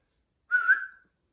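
A single short human whistle, a clear steady tone held for about half a second, close and alone with no talking.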